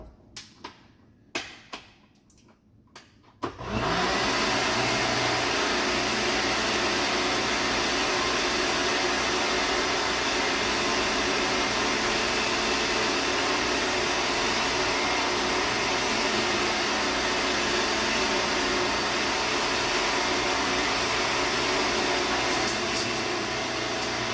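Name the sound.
blender pureeing broccoli soup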